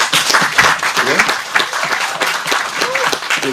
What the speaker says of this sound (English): Somebody give them a round of applause.